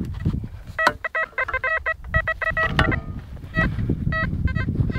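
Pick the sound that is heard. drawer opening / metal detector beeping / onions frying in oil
metal detector beeping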